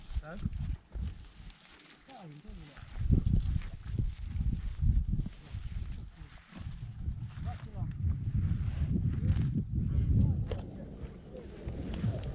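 Draft horse mare's hooves clip-clop at a walking pace, partly buried under people talking nearby in Ukrainian.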